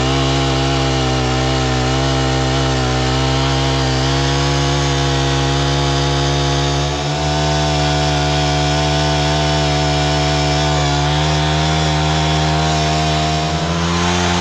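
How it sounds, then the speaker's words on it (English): A power auger drills a hole down through winter ice, its motor running loud and steady at close range for the whole stretch, pitch dipping briefly under load. "I'm going to use the power auger, and we're just going to be able to drill down."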